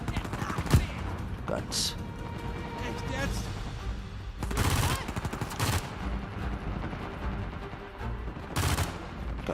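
Gunfire in Uncharted 4: A Thief's End comes as sharp, separate shots and short bursts over steady game noise, while someone speaks German throughout.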